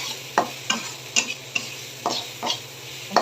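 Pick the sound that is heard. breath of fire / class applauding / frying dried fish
frying dried fish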